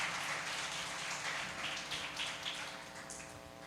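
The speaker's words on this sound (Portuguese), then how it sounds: "Aplauda ao Senhor pela vida dela" A church congregation applauds in dense, continuous clapping that eases slightly toward the end, with no talking.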